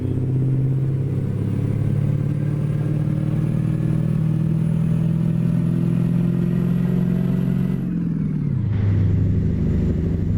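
A Caterpillar 3208 diesel engine in an International F 5080 truck in American Truck Simulator drones under load with a steady tone that climbs slowly, then drops sharply near the end as if shifting gear or lifting off the throttle.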